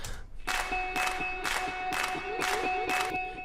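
Clap samples in an EDM track made in Logic Pro X, landing in a steady repeating beat over sustained synth tones and a guitar, bright and punchy in the mix.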